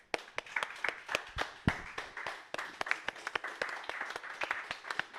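A church congregation claps hands at the close of a prayer. The claps are scattered and crisp, coming from a modest group rather than a dense crowd, at moderate loudness with no talking.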